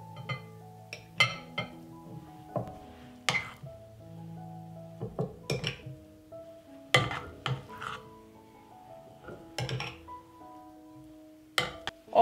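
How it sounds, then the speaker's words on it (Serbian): Liver pâté is spooned from a bowl into a glass jar, with soft scraping and scattered sharp clinks of utensil against glass, fairly close and quiet with gaps between strokes. "I ovako pripremljenu paštetu sipat ću u teglu."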